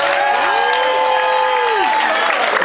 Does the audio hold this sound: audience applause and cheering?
yes